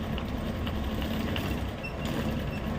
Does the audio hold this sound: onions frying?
no